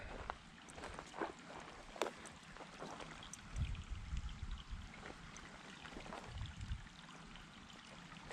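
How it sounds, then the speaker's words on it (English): A creek flowing through a Mill Valley redwood forest with ferns, its water trickling and burbling in a soft, steady wash, with scattered small splashes and nearby rustles. "So this is the creek."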